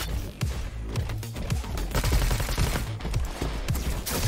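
Machine gun fire in the sci-fi shooter Roboquest: a loud, dense, unbroken stream of rapid shots with booming impacts layered throughout, close and continuous for several seconds.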